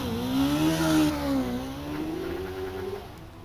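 A hillclimb race car with a 1.8 Rover engine revs hard up the course, its engine note rising and falling as it accelerates past, loud and close before easing away.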